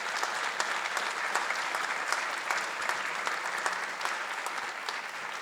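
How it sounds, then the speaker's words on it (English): Applause from a ceremony audience congratulates newly promoted fire and rescue captains at a public safety awards event, with even, continuous clapping heard at moderate distance and no speech over it. "let us give your captains a congratulatory round of applause"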